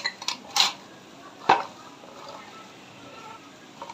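Bitter gourd and okra are stir-fried in a pan with salt and sugar. A few sharp, close utensil clinks and scrapes against the pan stand out, then the frying settles into a faint, quiet background.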